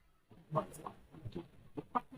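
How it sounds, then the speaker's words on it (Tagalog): A chicken clucks in short, scattered bursts close by, a few separate clucks and squawks spread over a couple of seconds against quiet background noise. "pasensya na kung meron kayong nakikinig na manok"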